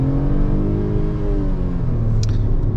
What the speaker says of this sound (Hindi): अब मैं फुल थ्रॉटल कर दिया सीएनजी मोड पे